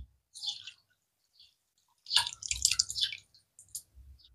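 Raw mango pulp juice strains through a mesh with wet drips and soft squelches. Sparse, close droplets and splatters come in short bursts, with a busier cluster in the middle, and no one talks.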